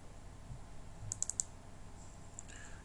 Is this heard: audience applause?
no